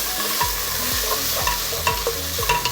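Kaffir lime leaves and aromatics fry in a pan for a Khmer chicken red curry, a constant loud sizzle with a spatula scraping and stirring in rhythm through it.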